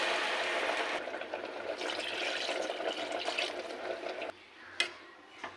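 Water pours steadily into a pan of sorpunti fish curry masala, a continuous close splashing flow that eases off, followed by a couple of light clinks.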